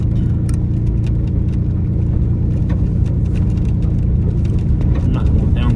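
A truck lurching over a bumpy road, heard from inside the cab as a loud continuous low engine rumble with scattered rattles and knocks from the rough surface.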